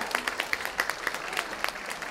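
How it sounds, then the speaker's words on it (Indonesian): Applause from an audience at an inclusive-society closing ceremony with autistic participants and parents, a moderate crowd clapping steadily with sharper individual claps standing out, fairly close and without talk. "Tepuk tangan dulu langsung."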